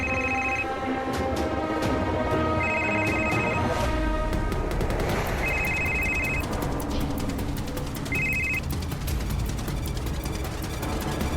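A mobile phone rings after a call is placed, its bright electronic ringtone sounding in four repeated bursts beneath a busy, loud layer of dramatic music and sharp crackling impacts.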